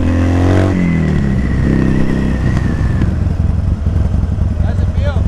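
A Harley-Davidson motorcycle engine idles with a deep steady thump, then revs up and settles into a loud, close, rumbling throb as the bike pulls away, with someone speaking over it.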